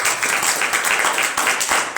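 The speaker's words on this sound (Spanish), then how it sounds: "Denle un aplauso a Jesucristo." Church congregation applauding during a sermon, dense rapid clapping with sharp individual claps standing out, loud and close, lasting the whole stretch.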